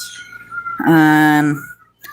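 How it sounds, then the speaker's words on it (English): Pet green-cheeked conures and cockatiels kept indoors, one loud close harmonic squawk lasting about a second, set among softer sounds. "I have 2 green cheek Conyers, 2 cockatiels."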